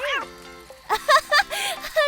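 Several soft, high meows from a small cat, close by, in short repeated calls with brief pauses between them.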